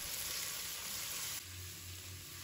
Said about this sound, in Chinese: 炒熟之后，再把苦瓜加进来，翻炒均匀。